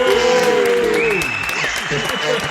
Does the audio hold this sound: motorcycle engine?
no